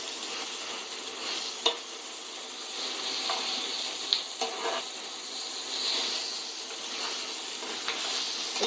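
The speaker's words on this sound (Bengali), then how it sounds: "এখানে পটল ভাজা করতে দিয়েছি" Pointed gourd (potol) frying in a pan, a continuous bright sizzle and hiss with occasional sharp pops and crackles, close and moderately loud, with no talk.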